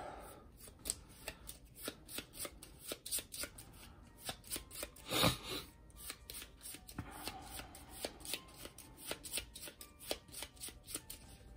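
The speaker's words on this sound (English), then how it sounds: "I give them a little shuffle" Arkham Horror board game cards being shuffled, a rapid run of crisp riffling flicks repeated over and over, close up and quiet, with no one talking.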